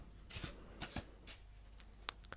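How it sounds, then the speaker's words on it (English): A deck of playing cards is shuffled close up in a quiet card-magic setting, a few soft riffling bursts and light flicks heard alone. "just shuffle the rest of the cards on top of that card"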